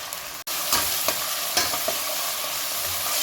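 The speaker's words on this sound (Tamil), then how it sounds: "எண்ணெய் சூடானதும் வெங்காயம் முதல் போட்டு வதக்கிடலாம்" Onions frying in hot oil for a mutton pasta dish, a steady broadband sizzle with intermittent scraping stirs, close and continuous with no talk.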